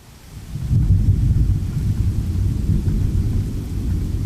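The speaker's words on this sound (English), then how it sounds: "there was this track that just started with simple rainfall and thunder" Rainfall and a deep rumble of thunder opening a guitar album track, a loud low continuous roar that swells in within the first second and holds steady, with no voices.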